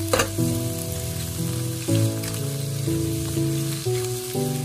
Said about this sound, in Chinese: 然后把虾蓉和鸡蛋全部放入锅中，继续开大火快速的翻炒